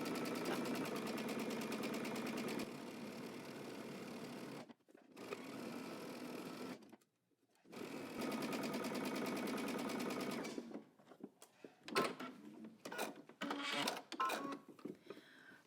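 Sewing machine stitching a dress seam and backstitching at each end, long even bursts of rapid mechanical stitching separated by short pauses, ending in a series of quick short clicks and stops.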